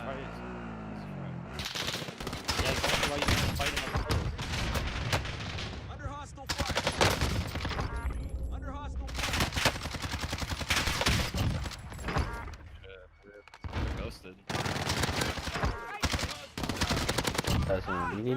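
Gunfire from akimbo Diamatti pistols in the Warzone video game, loud rapid bursts of shots in repeated volleys with brief gaps, while players talk over it.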